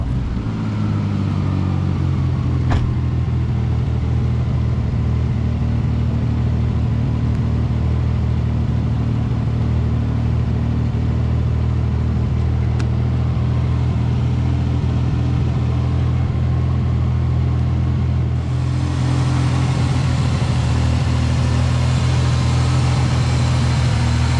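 An old barn-find car engine idles steadily on stale fuel, a constant low rumble running nearby through the whole stretch with no one speaking.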